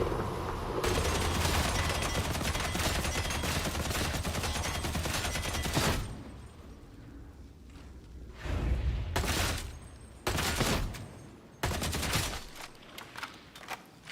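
Autogun fire in Warhammer 40,000: Darktide, a long sustained burst of rapid automatic shots for about six seconds, then several shorter bursts separated by pauses, loud and close with no talk.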